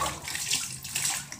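Water splashes and pours steadily from a dipper over a dog being bathed without a shower, a close, continuous wet rush with small surges.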